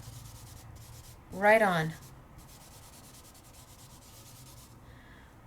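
Marabu art crayon rubbed onto paper for card making, a single short scratchy rubbing stroke of about half a second, close and clear, set in a quiet room with low background hiss.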